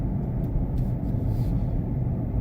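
Steady low engine and road rumble from inside a moving car, a constant droning hum that stays even throughout with no talk.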